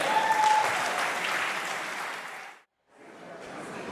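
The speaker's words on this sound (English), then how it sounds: "Let's give Chris a round of applause for a wonderful toast." Wedding guests applauding after a toast at a beach venue, steady dense clapping that stops abruptly and then resumes more softly.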